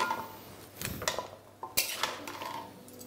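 A ginger and beetroot mixture mixed in a pan with a metal spoon, a few clinks and scrapes against the pan over a soft hiss, close and quiet, with no talking.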